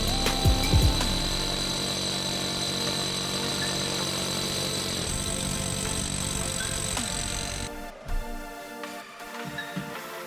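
A power drill with a core bit bores a 2.5-inch hole during a furnace replacement, whirring steadily for several seconds before winding down into quieter knocks.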